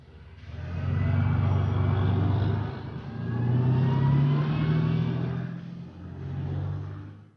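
Type 99A battle tank engine runs during field operation as the chassis rotates, a loud close rumbling drone that swells and dips in three surges with a thin whine above it.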